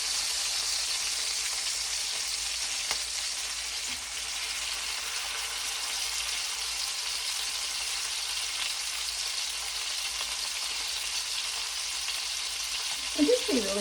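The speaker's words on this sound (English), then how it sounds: "Let me get a little browning on that side." Lamb shanks sear in a hot pan as they brown before braising. The sizzle is a steady, close, hissing crackle throughout, with a brief clink or scrape near the end.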